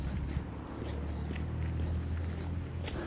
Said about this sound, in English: I'm going to give it just a tiny bit more on the hose.